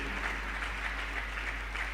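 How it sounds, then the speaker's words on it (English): A summit audience of youth delegates in Akwa Ibom State applauds in a steady, even wash of clapping with a low hum underneath, without any pause. "So please clap for yourself, Akwa Ibom State"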